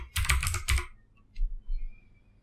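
A short burst of computer keyboard typing, a rapid cluster of clicks followed by a pause and two softer, duller key taps, close and clear.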